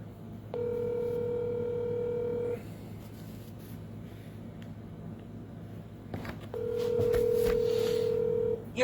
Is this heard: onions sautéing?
no